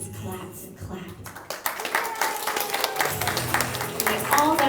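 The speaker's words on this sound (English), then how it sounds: "And the audience clapped and clapped." An audience breaks into clapping after a quieter opening, with dense, uneven hand claps that build and keep going at a steady level. Voices carry on over the applause.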